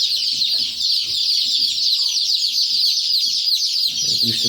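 A poultry shed of about 250 young chickens fills the air with dense, continuous high-pitched cheeping and clucking, with a few lower soft clucks and rustles close by.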